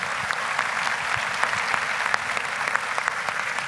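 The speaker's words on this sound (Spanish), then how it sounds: "Un fuerte aplauso, por favor, para todos nuestros panelistas." An audience applauds the panelists at the end of a panel session on infrastructure in Guatemala, a dense steady round of clapping that holds at full strength throughout.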